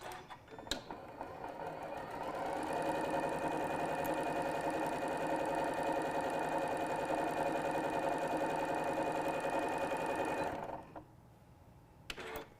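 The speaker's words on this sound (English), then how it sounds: "I'm just quilting right off of the edge onto that batting, and I'm starting right off of the edge on the batting too" A sewing machine quilts fabric strips onto batting for a scrappy pouch, running in a steady fast whir for several seconds before stopping abruptly and leaving quiet handling noise.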